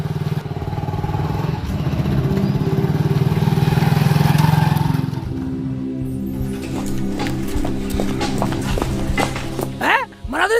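A motorcycle engine runs with a steady, loud drone for several seconds, then drops back beneath voices talking over it.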